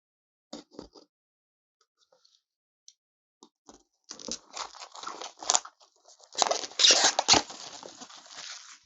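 A Toocki TQ-EJ18 wireless earphone box being opened, with sparse taps and clicks at first, then a burst of crinkling, tearing paper and cardboard rustling, close and fairly loud.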